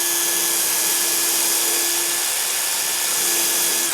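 A power drill boring into a clamped metal storage box, a loud continuous high whine held steady for about four seconds before cutting off abruptly, with no talk.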